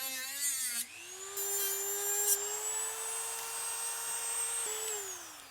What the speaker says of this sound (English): So I got the biggest saw blade that I could find in my little Dremel kit, and I'm just gonna cut these ends off to make them shorter.